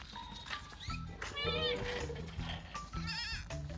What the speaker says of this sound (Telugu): ఇక్కడ మేకలు ఉన్నాయి